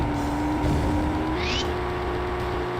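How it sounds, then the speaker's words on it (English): A nitrous-boosted racing engine from the video game Hamsterball Gold drones steadily at close range with a sustained tonal whine, with a brief rising squeal partway through; no one talks. "Oh, the nitrous. It makes the engine sound so bad."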